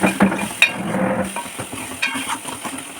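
Crushed garlic, pepper and chili are stirred together in a pan, giving a soft sizzle with scraping spoon strokes and a few light clinks, close and fairly loud, with no voices.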